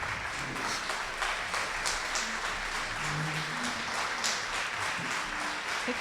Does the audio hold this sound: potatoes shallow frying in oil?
no